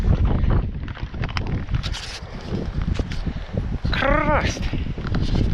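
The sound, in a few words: strong wind blowing on a mountain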